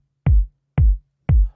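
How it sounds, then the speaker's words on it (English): Three hard house music kick drum hits programmed in FL Studio, evenly spaced about half a second apart, each a loud punchy low thump with a short decay, heard alone with no talking. "So I'll play the kick for you."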